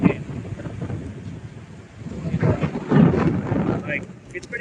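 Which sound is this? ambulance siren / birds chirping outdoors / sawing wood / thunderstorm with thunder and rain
thunderstorm with thunder and rain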